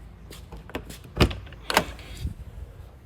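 Rear storage door on a 2022 Forest River No Boundaries NB19.3 travel trailer opening, with a few sharp latch clunks and thumps up close and a rattling sweep of the hatch in between.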